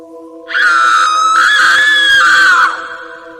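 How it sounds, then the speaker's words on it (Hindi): A woman lets out a loud, sustained horror-story scream with a high, wavering wail that rises sharply, holds for about two seconds, then cuts off over a faint background hum. "वो चेहरा देखकर आरती की चीख निकल गई।"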